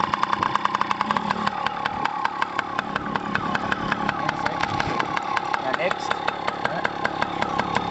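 A child's small motorbike, a fourth-birthday present, runs with a steady putter and a regular ticking beat through the whole stretch, while people talk nearby.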